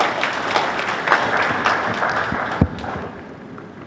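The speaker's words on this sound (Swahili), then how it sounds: "Naomba tupige makofi mengi sana mabibi na bwana." An audience claps at the launch of the Gran Melia hotel in Arusha, with a dense, steady patter of applause and scattered louder claps throughout.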